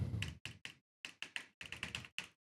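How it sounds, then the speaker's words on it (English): Loud computer keyboard typing in bursts of sharp clustered keystrokes with short silent gaps, close to the microphone and alone without talk. "picks up the keyboard real loud"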